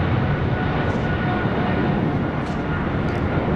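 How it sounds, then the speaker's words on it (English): An American Airlines Boeing 777-300ER taking off from runway 25 right at LAX makes a loud, steady broadband engine roar that holds at full strength throughout, without speech. "the 777-300ER, taking off on the south side at 25 right"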